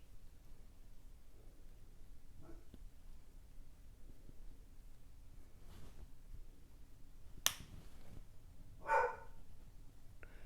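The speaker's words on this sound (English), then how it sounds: "Don't mind the barking." A dog barks from a kennel downstairs, faint and distant. A few muffled yaps come near the end over a quiet room hum.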